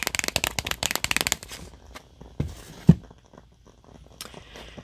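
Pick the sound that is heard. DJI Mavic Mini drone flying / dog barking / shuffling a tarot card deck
shuffling a tarot card deck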